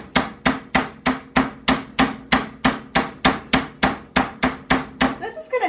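Meat pounded thinner with a mallet for a Hello Fresh recipe, a steady run of about twenty sharp, evenly spaced thuds, close and fairly loud, ending with a few softer knocks.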